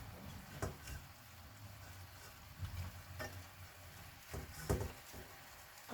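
Steady sizzling of pork frying in a pan with soy sauce, with occasional clanks and scrapes of a utensil stirring the food.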